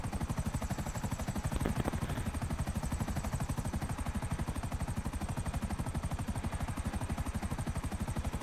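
A Buzzard helicopter in a video game flies with a fast, steady rotor chop, rhythmic blade thumps holding at constant distance under a faint whine for the whole stretch, with no voices.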